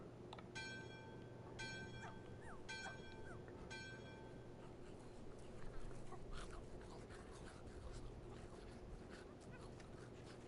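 Dogs in the horror video game My Friendly Neighborhood give short yips and whimpers over a steady game hum, with repeated chirping bursts in the first half.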